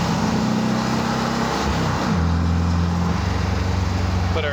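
A 1948 Porsche 356 Speedster replica engine drones steadily while driving, with a loud buzzy low hum that drops and shifts pitch during a downshift into third, and a voice speaks faintly under it.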